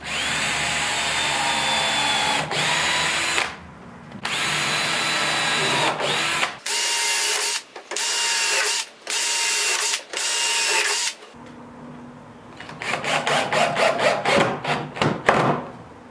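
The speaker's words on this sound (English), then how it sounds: "Now being a hardwood, we want to pre-drill again." A power drill whines steadily, pre-drilling into hardwood, stopping and starting in several bursts, ending with a run of short rapid pulses; close and loud, no talking.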